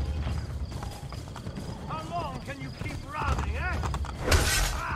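Horse hooves clip-clop steadily in the Assassin's Creed Brotherhood video game, a rhythmic clatter under someone talking, with game ambience and a brief sharp crash near the end.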